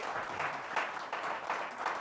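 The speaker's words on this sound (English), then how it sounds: "Can I get a round of applause for my panelists?" Audience at a panel discussion on principled AI claps for the panelists in steady, full applause that fills the room, with no talk over it.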